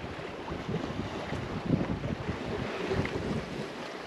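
Wind rushing past the microphone aboard a sailing boat in about 8 knots of wind on the Sea of Cortez, with water washing along the hull, steady and moderately loud throughout.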